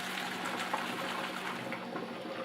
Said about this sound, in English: So we're just going to pour it out.